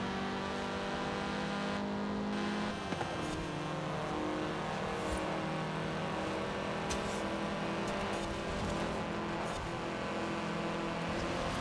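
A Honda car engine in the video game Forza Horizon 4 drones and revs steadily throughout, a continuous mechanical whine with slight shifts in pitch as it accelerates.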